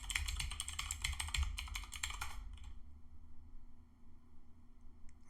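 Rapid keystrokes from typing a password on a computer keyboard, a dense run of close clicks for about two and a half seconds, then quiet room hum with a few scattered taps.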